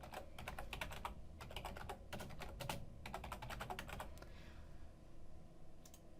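Fingers typing on a computer keyboard in quick bursts of key clicks separated by short pauses, close and clear with nothing else around.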